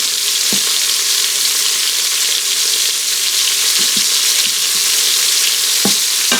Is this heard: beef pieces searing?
yes